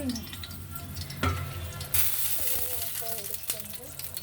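Tomato and eggplant sizzling in a hot pan, a soft, steady close sizzle with a couple of sharp clatters from a lid or utensil and faint squeaks.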